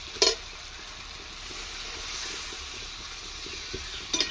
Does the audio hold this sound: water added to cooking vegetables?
yes